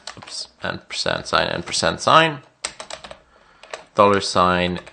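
Computer keys tap in quick bursts while someone talks over them. The typing sits close and mostly under his voice.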